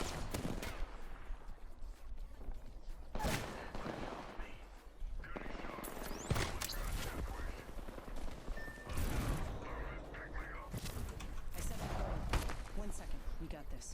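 Gunfire in a video game breaks out in repeated loud bursts over steady background noise, some of the shots rapid like a fusillade. A person talks throughout.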